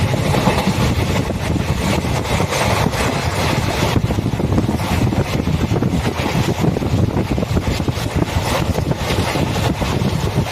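Passenger train running between Trichy and Tambaram near Kollidam station, a steady loud rumble of wheels and wind noise throughout with no talk.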